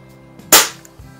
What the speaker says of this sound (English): Seems to be really shooting nice now, so got a lot of kick to it.